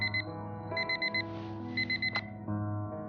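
A repeating electronic alarm clock tone from the video game Fragments of Him, sounding in clear groups of four beeps over a steady low hum and background music.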